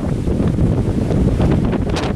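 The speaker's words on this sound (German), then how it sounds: "Was Wind. Und wie kalt das jetzt auch wird." Strong gusting wind buffets the microphone during a thunderstorm with a shelf cloud: loud, continuous low roaring rumble with fluctuating gusts, no speech.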